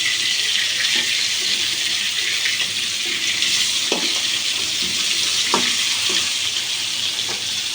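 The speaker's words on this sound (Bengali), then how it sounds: "মাছগুলো আমি এক এক করে উল্টিয়ে পাল্টিয়ে দেব।" Fish frying in hot oil as the pieces are turned over one by one, a loud continuous sizzle with faint knocks and scrapes from the turner.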